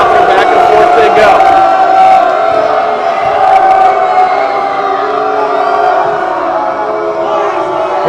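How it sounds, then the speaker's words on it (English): Loud, sustained crowd noise fills a gym during a girls' high school basketball championship, a steady roar of massed voices swelling and easing as spectators jeer a player. "I don't think I've ever heard a crowd boo another player at a high school basketball game"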